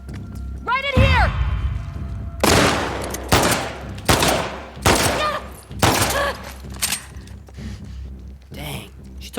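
Gunfire in the video game The Last of Us Part II: several loud, sharp shots spaced a second or so apart, some with ringing tails, mixed with game voices and effects.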